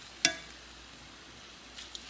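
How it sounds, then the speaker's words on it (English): Beef hits a hot skillet with one sharp sizzling burst, then a steady soft frying hiss carries on quietly, with a faint second crackle near the end. "So now we put it in this hot skillet. And we're just going to let it fry,"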